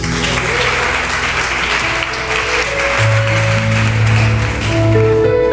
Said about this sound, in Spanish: Póngase de pie y den un aplauso a Jesús